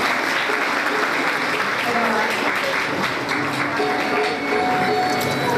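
Sustained audience applause at a felicitation ceremony honouring a teacher, dense and steady clapping that fills the room without a break, with faint voices beneath.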